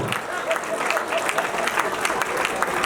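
A seated audience at a Hindi poetry gathering (kavi sammelan) claps in steady scattered applause, moderately loud and close, with a voice talking over it.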